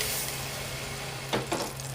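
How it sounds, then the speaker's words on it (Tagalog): A hotdog frying in cooking oil in a pan: a steady, soft sizzle runs throughout, with a couple of brief louder crackling spurts near the end and no talking. "Una guys, iprito ko muna tong hotdog niya."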